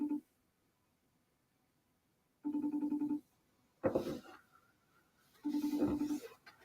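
A FaceTime video call ringing tone sounds in three separate bursts with pauses between them, steady and fairly close, with a short noisy clatter between the second and third.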